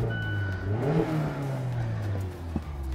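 A Mazda Miata engine revs up and settles into a throaty rumble, loud and close, alone for about three seconds.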